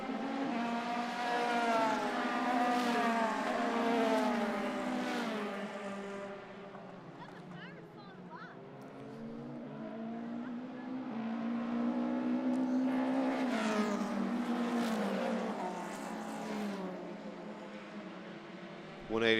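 Formula 3 race cars lap a circuit during an ICCR 2022 round, engines droning loud and continuous with rising and falling pitch as they pass, over steady commentary.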